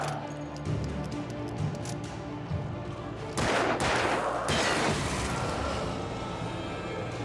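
Gunfire rings out in the video game Alan Wake, with sharp repeated shots over tense game sounds, and a louder burst of blasts midway, loud and close.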